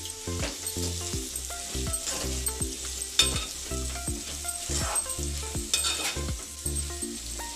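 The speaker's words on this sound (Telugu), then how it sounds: "ఇది బంగాళదుంప ఫ్రై అండి" Close sizzling of potatoes frying in a pan, with repeated scraping and knocking of a utensil against the pan in an uneven rhythm.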